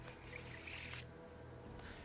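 A riffle shuffle of a deck of playing cards gives a quick, close fluttering burst of card edges interleaving, followed by a softer brief riffle near the end.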